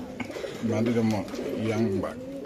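Pigeons coo in low, throaty rolls, two or three phrases close by, with a busy background of people at a caged-pigeon market.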